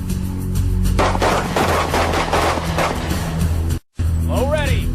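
SWAT team gunfire, a loud rapid volley of shots crackling for a few seconds with shouted commands mixed in, then a brief cut before more noise.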